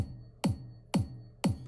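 Kick drum alone from a programmed drum part, three evenly spaced deep thumps with short decays, mechanical and steady, played without talk over a faint held tone.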